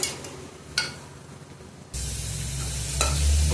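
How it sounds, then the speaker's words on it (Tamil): Onions sautéing in ghee for kuska biryani, a steady close sizzle that grows louder partway through, with a few scraping stirs. "நல்லா வதங்கிக்கிட்டு இருக்கு"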